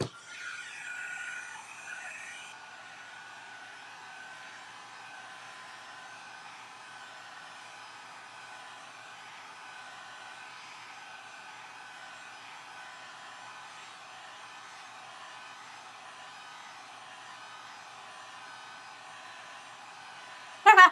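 A hair dryer blows over a paper mache box, a continuous soft whooshing hum that is slightly louder for the first two seconds and then holds steady and faint for the rest, ending with a sudden clunk.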